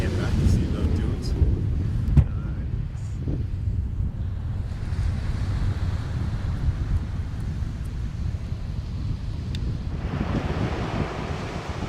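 Ocean surf and gusting wind at Rexhame Beach in Marshfield, Massachusetts roar steadily, with heavy wind buffeting the microphone and a few faint knocks.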